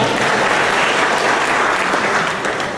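A seated audience at an education and culture congress claps together in a dense, steady burst of applause that fills the hall, fading slightly at the end.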